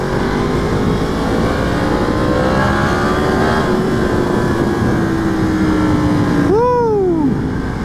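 Yamaha FZ-10 motorcycle ridden at night, a loud steady engine drone with wind rush, its pitch gradually sliding down before a sharp rev rises and falls near the end.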